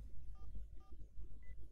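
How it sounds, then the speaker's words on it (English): A phone keypad sounds three short electronic beeps, evenly spaced and faint, over a low rumbling background with no speech. "so this time I typed it into the phone"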